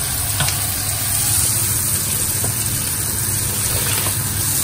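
Food sizzles and fries in a pan in a home kitchen while spaghetti is being cooked, a continuous crackling hiss with occasional small pops and faint stirring, steady and close.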